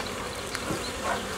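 Honeybees hum in an opened hive while frames are moved and checked, a steady, dense buzzing swarm heard close up and alone for a brief moment.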